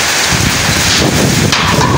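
Heavy rain and strong wind in a village storm roar as a dense, continuous broadband wash, loud and close, with gusts buffeting the microphone and no voices.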